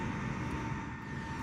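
A jet takes off in Microsoft Flight Simulator 2024, heard as a faint, steady engine roar with a thin whine running through it throughout, with no talk.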